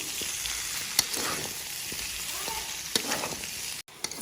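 Local chicken meat sizzling steadily as it fries with spices and Kashmiri chilli in a pan, a continuous hiss with a few sharp clicks from stirring, and no voices.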